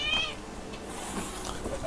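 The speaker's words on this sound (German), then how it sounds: "Typisch Katze, jetzt, Alter. Hör auf zu motzen!" A pet cat meows and grumbles in a few short, whiny complaints, fairly close and moderately loud over a steady background hiss.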